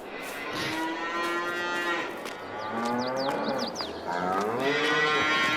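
Cattle mooing in Farming Simulator 22 on a virtual Ohio farm, several long drawn-out lowing calls one after another, moderately loud and clear against a steady game backdrop, no talking.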